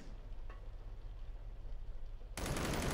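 Gunfire from a weapon in a VR Planet of the Apes game: a sudden, loud, dense burst of shots erupts near the end after a stretch of low background rumble.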